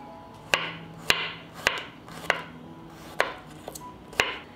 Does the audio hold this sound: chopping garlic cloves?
yes